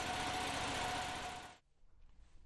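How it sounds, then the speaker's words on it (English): A Proforce 4 blower engine runs with a loud, dense, steady roar for about a second and a half, then cuts off abruptly, leaving only faint low rumbling. "turn the key to start the engine. After the engine is started and running smoothly"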